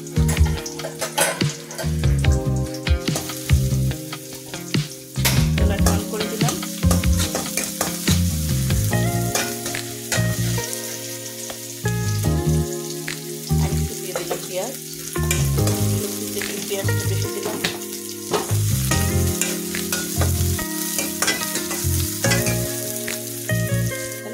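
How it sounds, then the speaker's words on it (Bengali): Garlic and chopped onion sizzle steadily in a hot pan while being stirred, with scraping spatula strokes and occasional clatter over a continuous frying hiss. "দিয়ে দিলাম এখানে রসুন, দিয়ে দিলাম এখানে পেঁয়াজ কুচি। এখন ভালোভাবে আমি নাড়াচাড়া করে দিই।"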